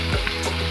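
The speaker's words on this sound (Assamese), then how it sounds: "ইমান দেৰিলৈকে ইয়াক ভাজি থাকিম যিমান দেৰিলৈকে ইয়াৰ পানীখিনি শুকাই নাযায়" Chicken sizzles and fries steadily in a pan as its water cooks off, a close, continuous crackle with soft stirring, and no voices.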